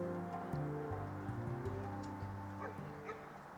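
A dog barks and yips in a few short bursts with whimpering tones between them, faint and somewhat distant, over a low background hum.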